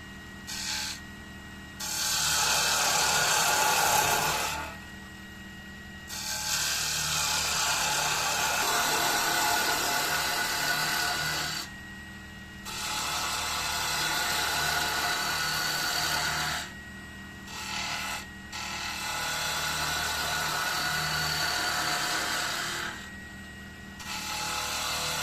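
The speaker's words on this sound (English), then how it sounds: "We're using our spindle gouge this time instead of the roughing out gouge." Steady scraping hiss of a spindle gouge cutting spinning wood on a woodturning lathe, in several long passes separated by brief pauses, with the lathe's low motor hum continuing underneath.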